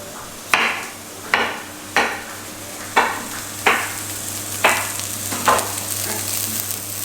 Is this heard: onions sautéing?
yes